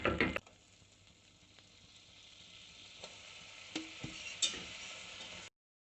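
Flour roasts in a pan for a white sauce with a soft, steady sizzle, a few light scrapes and taps of a utensil stirring through it, fairly quiet and close.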